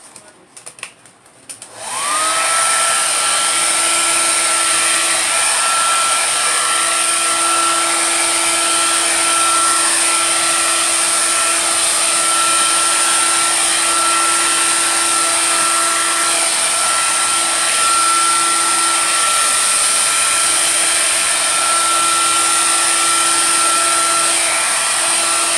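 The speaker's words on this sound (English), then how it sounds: "I just hit it with my handy dandy blow dryer" A hair dryer switches on and blows steadily with a loud, constant whirring roar that holds for the full length without a break.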